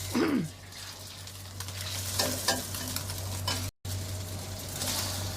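Egg and wood ear mushrooms being stir-fried in a pan, a steady sizzle with scraping stir strokes, close and fairly loud with a brief dropout near the end.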